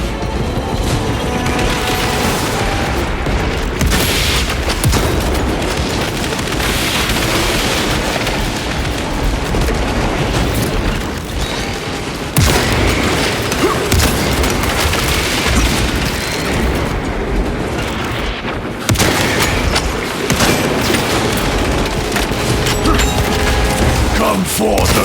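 Bolter fire in the video game Space Marine 2, with loud continuous heavy shots and explosive booms amid mechanical clatter and battle noise.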